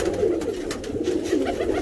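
Tippler pigeons coo steadily in a loft, a close, continuous low warbling murmur that goes on throughout with no voices.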